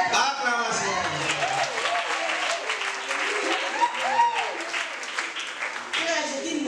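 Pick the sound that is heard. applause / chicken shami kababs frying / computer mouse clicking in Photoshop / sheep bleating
applause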